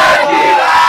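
Children shouting a slogan together in unison at a Maganga Cup football event in Bukombe, a loud, sustained crowd yell lasting under a second.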